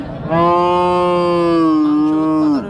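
A Friesian cow lets out a single loud, long moo at a rural cattle market, close and clear, steady in pitch before dropping at the end.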